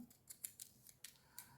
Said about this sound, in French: vous prenez votre ciseau, vous coupez ce qui dépasse en poils